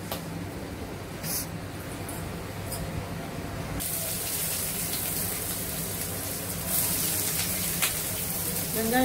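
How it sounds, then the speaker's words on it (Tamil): Spices hit hot sesame oil and break into a steady crackling sizzle that swells and continues, close by. "இதில் தாளிக்கிற பொருள் போடும்,"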